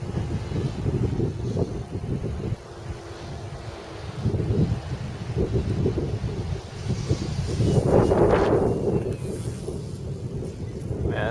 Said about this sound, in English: Man, that's some fierce wind.